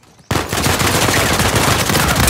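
Sustained rapid gunfire in the video game Uncharted 4, a dense unbroken automatic burst starting abruptly and staying loud and close to the end.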